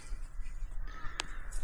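One harsh caw from a crow-like bird at a bush campsite near Lightning Ridge, Australia. It sounds faint and distant over a quiet outdoor hush.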